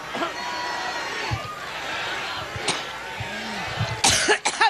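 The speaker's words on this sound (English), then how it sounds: "she had a hacking fit. She coughed for 2 minutes." A woman's hacking coughing fit at a press podium, recorded and played back, with repeated harsh coughs of varied strength and a louder cluster of bursts near the end over a steady crowd and room murmur.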